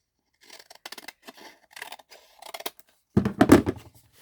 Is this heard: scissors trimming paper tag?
yes